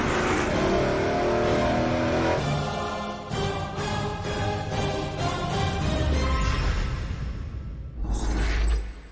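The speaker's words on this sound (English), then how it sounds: "Welcome to the episode I like to call Another Excuse to Run My Big Block Chevy." Supercharged 555 cubic inch big block Chevy engine revving hard on a dyno, a loud sustained roar rising and falling through several revs before a final surge.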